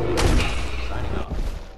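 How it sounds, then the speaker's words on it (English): Artillery strike explosions in the video game Fallout 4 boom repeatedly across a noisy battle mix, with a heavy low thump early on and continuous rumbling gunfire-like blasts throughout. "You better get some more artillery out here, dude."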